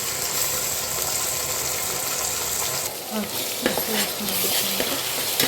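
Mint sizzles and fries in a pan of browned onions for mushroom pulao, with a steady hiss throughout and a spoon scraping and clinking against the pan in the second half.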